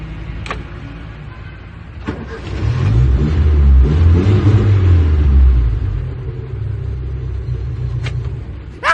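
A car engine running with a steady low rumble that swells louder through the middle, then eases back to a constant idle-like drone with a few faint clicks.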